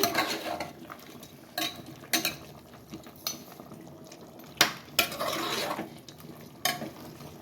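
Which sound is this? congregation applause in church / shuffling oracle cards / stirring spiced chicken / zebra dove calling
stirring spiced chicken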